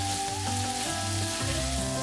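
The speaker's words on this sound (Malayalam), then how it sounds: "1 തണ്ട് കറിവേപ്പില ചെറുതായിട്ട് മുറിച്ചിട്ട് ഇത് ഈ എണ്ണയിൽ നന്നായിട്ട് മൂപ്പിച്ചെടുക്കുക." Chopped curry leaves crackle in hot oil for an okra dish, a brief dense sizzle heard close up, with a tonal hum running underneath.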